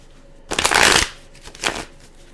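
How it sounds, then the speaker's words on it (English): A deck of playing cards is riffled and shuffled up close, one long loud burst of flicking cards followed by a shorter second riffle, with no talking. "I'm going to cut this deck"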